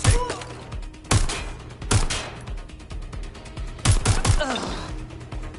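Gunfire in Watch Dogs: Legion: sharp, loud single shots and short volleys crack out at irregular intervals, close and punchy, with voices calling out between them.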